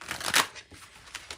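A quick riffle of tarot cards being shuffled, a short papery flutter followed by a few soft taps.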